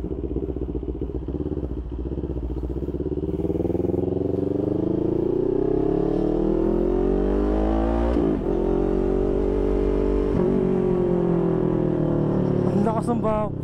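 A motorcycle engine is revved at open throttle, rising and falling in pitch with loud sustained roar and a sharp backfire pop, while people talk over it.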